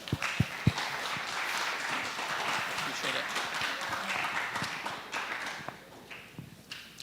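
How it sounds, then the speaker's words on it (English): A lecture audience gives a warm round of applause, dense steady clapping that holds for several seconds and then thins out near the end. "let's give him a warm round of applause"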